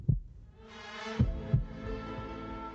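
A deep, low heartbeat effect from a played video, three soft thuds spaced unevenly under a swelling sustained orchestral tone, fairly quiet, with no talking.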